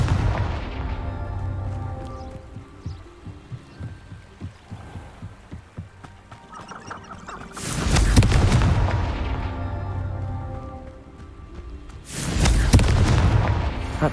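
Two booming blasts from the Confringo explosive spell in Hogwarts Legacy, each a loud broadband burst with a rumbling tail, separated by a few seconds of quieter ambient game sound and music.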